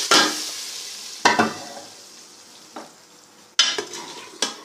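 Hot tadka stirred into chana dal, bursting into loud sizzling hisses in several sharp waves that fade between stirs, close and alone.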